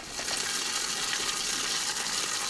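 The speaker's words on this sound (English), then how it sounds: "Going to add a bit of water." Water poured in while making cannabis oil in a kitchen, a steady close gushing splash that fills the short moment without pause.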